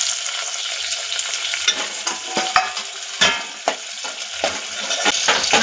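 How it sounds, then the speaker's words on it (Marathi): Curry leaves, chilies, tomato and coriander sauté in a pan with a steady, close sizzle and frying hiss, broken by sharp scraping stirs and occasional clinks of the spoon against the pan. "2 मिनिटं हे परतणार आहोत सगळ्याचा एकत्र"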